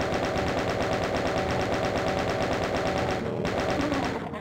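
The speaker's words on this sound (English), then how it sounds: "Then we can chain gun these guys as well." Chaingun in The Ultimate Doom fires a rapid, continuous stream of loud, evenly spaced shots, close and unbroken for several seconds.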